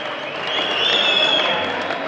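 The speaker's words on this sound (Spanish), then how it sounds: "Le aplauden todos." An audience applauds Abraham Moctezuma at a tabla match, a loud, swelling burst of clapping with a high whistle or cheer riding over it, brief and close.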